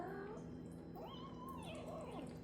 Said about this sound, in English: Right now we've got 5 kittens